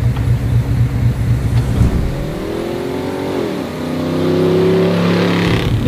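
A racing jeep engine runs close by, idling roughly and then revving up as it pulls away, its pitch rising and falling, loud with no talk.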